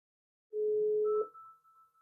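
A phone call connecting on an iPhone 11: a steady outgoing tone sounds for under a second, followed by a higher, fainter ringback tone that trails on alone.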